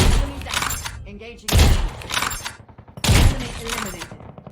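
Call of Duty Mobile battle royale gunfire cracks out in two sharp, loud volleys under a voice talking throughout.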